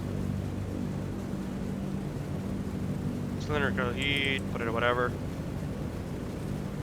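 All four piston engines of a Lockheed Constellation run in FSX as a steady, low droning hum that continues evenly while someone talks over it.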